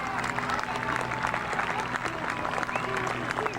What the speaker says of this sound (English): Let's have a great big round of applause for the Air Adventures Parachute Team.